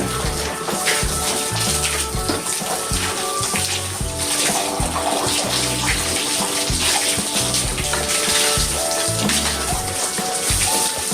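Water runs and splashes continuously and loudly at a pig farm, a dense steady gushing with no pauses.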